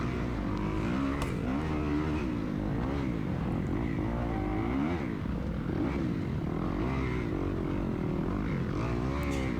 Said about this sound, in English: You can tell I'm on the clutch quite a bit. I'm in second gear